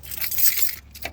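A ring of keys jangles close up as the ignition of a Cummins-powered truck is turned on, a brief bright metallic clinking in quick bursts over a low, faint background hum.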